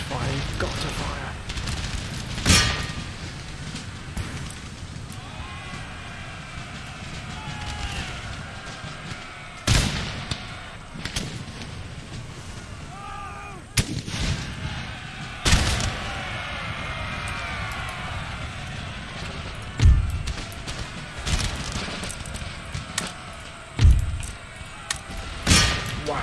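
Cannon fire in an Empire: Total War battle: a string of sharp booms, some close and loud and others farther off, scattered irregularly over a noisy battlefield din, with someone talking in between.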